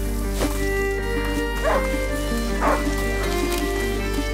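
A hunting dog in the video game A Plague Tale: Innocence gives a few short yips and whimpers at a moderate distance. They sit over a steady low game hum and soundtrack, with no one talking.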